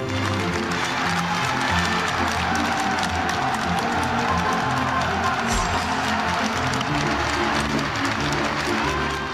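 Crowd of citizens clapping and cheering near a vehicle as defectors arrive in South Korea, a dense, steady roar of applause and voices filling the whole stretch.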